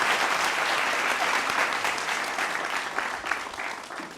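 A studio audience breaks into sustained applause, a dense, even patter of many clapping hands that carries on steadily for a few seconds and slowly fades.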